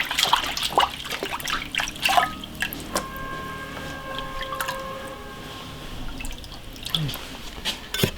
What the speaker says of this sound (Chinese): 清洗干净。